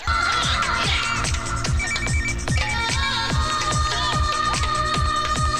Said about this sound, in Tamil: என்ன சத்தம்? ஓ மாஸ்டர் உன் போன் அது